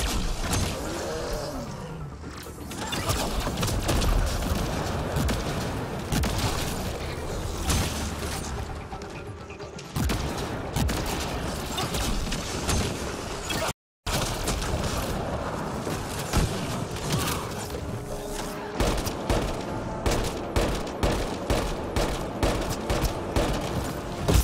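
Sustained bursts of gunfire and explosive booms from a sci-fi shooter game battle in Mass Effect: Andromeda, rapid and dense throughout with a brief silent gap midway, music underneath and no talking.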